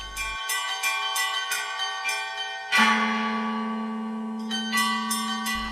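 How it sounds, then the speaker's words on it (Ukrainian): Several church bells ring from a bell tower at Easter in a repeating pattern of bright, resonant strikes with long ringing tails, one deeper bell joining midway, heard from a moderate distance. "чути дзвони на дзвіниці"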